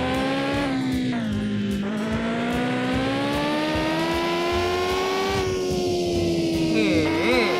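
A car engine in the video game Mon Bazou revs loudly and steadily, its pitch rising and falling through continuous acceleration, with excited talk over it.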